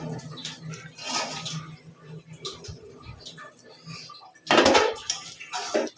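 Mutton biryani being stirred in a cooking pot, with a spoon scraping and clanking against the metal in irregular strokes, close by, and a louder scrape near the end.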